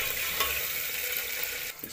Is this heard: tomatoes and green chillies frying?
yes